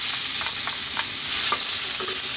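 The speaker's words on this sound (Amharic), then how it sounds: "ዝንጅብላችንን እንጠብሳለን።" Garlic and ginger frying in hot oil in a pan, a loud close sizzle with crackling and occasional scraping stirs, continuous throughout.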